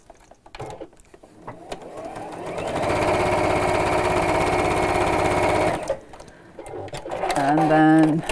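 A sewing machine stitches two fabric triangles together for a heart pin cushion pocket, a steady motor whir running for about three seconds mid-clip, with talk before and after.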